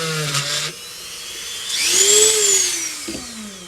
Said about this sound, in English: the Dremel has, you know, only a certain speed to go to, even at its lowest setting, that I know it'll even drill a hole